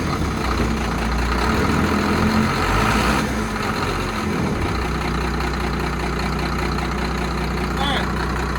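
A boat engine starts up and settles into a steady idle, a loud low rumble that runs throughout with voices talking over it.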